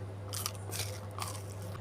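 Crunchy fried bala el sham pastry soaked in sugar syrup is bitten and chewed, giving three crisp, crackling crunches spaced through the moment, close and clear over a steady low hum.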